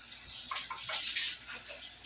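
Tap water runs into a sink as hands are washed, a soft hissing splash that rises and falls with the hands moving under the stream, faint and close.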